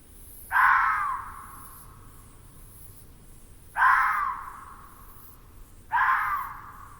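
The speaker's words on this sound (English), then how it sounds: "the crow steals the leftovers" A crow gives three loud, harsh caws a couple of seconds apart in a high-mountain setting, each a single rasping call standing alone over faint background hiss.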